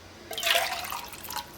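Water being poured into a cooking pot for soup, a brief splashing pour that swells and fades over about a second, close and alone with no talk.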